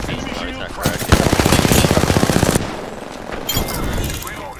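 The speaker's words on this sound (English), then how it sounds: "Another fucking team shooting at us already" Rapid automatic gunfire from an enemy squad in Apex Legends, a loud sustained burst of dense repeated shots in the middle, with scattered shots and game noise around it and voices talking over the action.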